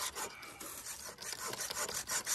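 A hacksaw rasps back and forth through metal while a mini carpet kicker is being made, a steady, close, quiet scraping rhythm with no talking.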